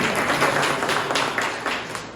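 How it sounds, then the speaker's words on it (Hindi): Seminar audience in Jharkhand clapping together, a short dense round of applause from a crowded room, fairly loud and steady before tapering off. "कर भला तो एक ताली बजा दीजिए कम से कम"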